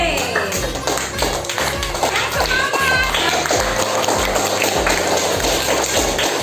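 A classroom of pupils claps for a group, with steady rhythmic applause and scattered voices calling out over it.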